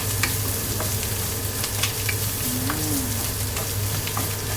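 Garlic fries in a pan until golden for ginataang labong, a steady close sizzle that holds alone for the whole stretch while a bird coos faintly in the background.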